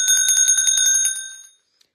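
A small hand bell rings close and loud in a rapid, steady string of strikes for about a second and a half, then its bright ringing cuts off into silence.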